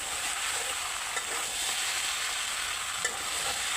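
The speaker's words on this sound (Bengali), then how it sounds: "আজকে আমি কোনোরকম জল ব্যবহার করিনি, ভেজেই পুরো তরকারিটা রান্না করলাম।" Mixed five-vegetable curry fries in ghee without water, giving a dense, steady sizzle close by with only a couple of faint stirring knocks and no speech.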